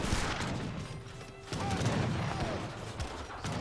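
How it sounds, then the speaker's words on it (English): Great bombard cannons firing in the Age of Empires 3 strategy game, heavy booming blasts and crashing impacts layered over dense battle noise and clatter, with a voice talking over the action. "Great bombards firing some good rounds in that house, being a bit of a home wrecker"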